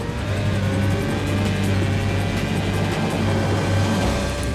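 An F1 car engine sounds in the Red Bull F1 simulator on a lap of the Valencia circuit in Spain, a loud continuous high-revving drone held steady at full throttle, with no talk.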